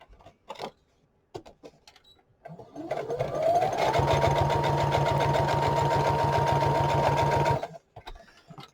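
A sewing machine stitches through junk journal pages in one long continuous run of about five seconds, loud and close, with a steady rapid mechanical rattle after some brief handling noises.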